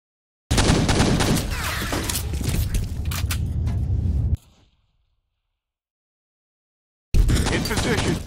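Rapid automatic gunfire in the multiplayer shooter F.E.A.R. Combat, a dense loud burst lasting several seconds, then a sudden silence before another volley starts.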